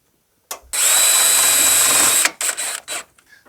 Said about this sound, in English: Clamp the tab in place in such a way I can still drill the hole.